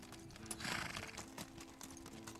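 Horse hooves clip-clop through a fall cattle drive in open draws, a few uneven steps close by over a low steady hum, with no talking.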